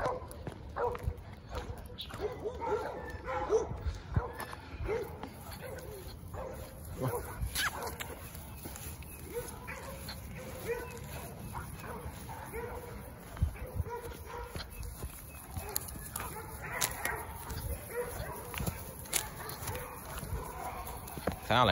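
Dogs scrap outdoors on a morning, with scattered barks, yips and whimpers carrying from some distance over a steady background of noise, while human voices murmur faintly.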